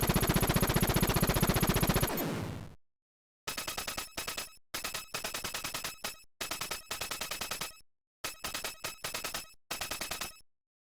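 Rapid chiptune gunfire from the Contra video game, a long buzzing burst followed by repeated short bursts of rapid-fire shots with brief gaps between them, loud and alone.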